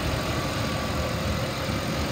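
A 2005 Ford F-150 XL pickup with an automatic transmission idles smoothly, heard up close as a steady, even low rumble with no revving or voices.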